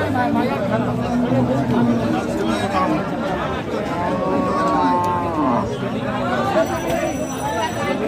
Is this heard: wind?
no